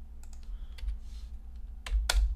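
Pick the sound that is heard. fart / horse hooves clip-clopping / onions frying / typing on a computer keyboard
typing on a computer keyboard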